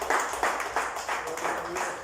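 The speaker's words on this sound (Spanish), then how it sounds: "Denle un aplauso al Señor Jesús, por favor" Congregation clapping during a church service, a steady crowd applause in several swelling bursts, fairly close and filling the room.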